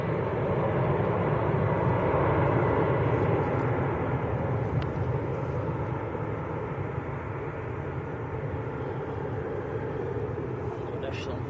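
An airliner climbing away after takeoff at Manchester Airport, a steady, fairly loud engine roar that eases slightly over time, with a few faint clicks.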